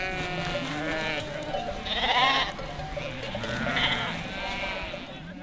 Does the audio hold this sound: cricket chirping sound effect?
no